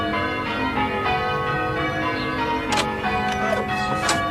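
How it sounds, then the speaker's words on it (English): A bell with a dull sound rings in a radio mystery drama, a muted, ringing tone with repeated strikes and lingering hum, heard up close without talk over it. "That bell with the dull sound."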